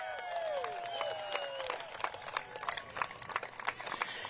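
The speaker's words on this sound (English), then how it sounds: "so give her a big cheer" A crowd cheers and claps for a woman finishing fifth at a water ski competition, the 2022 Hilltop Pro, with whistles and sharp claps rising over steady crowd noise at a moderate distance.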